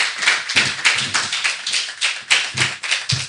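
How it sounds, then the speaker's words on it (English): Close, dense clapping from a conference audience applauding forum panelists, a steady run of sharp overlapping hand claps with rhythmic peaks throughout. "Give them a round of applause again."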